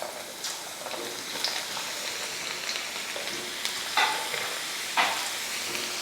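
Potato chips fry in hot oil in a kadai, added one by one. The oil gives a steady, dense crackling sizzle with sharper pops and stirring scrapes breaking through every second or so. No one speaks.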